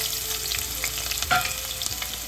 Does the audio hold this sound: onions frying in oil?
yes